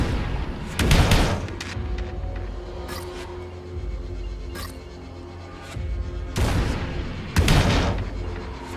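Acid grenades fired in the tactical biopunk RPG Deep Fringe, several heavy booming blasts in two clusters with a pause between, loud and close over a low background rumble.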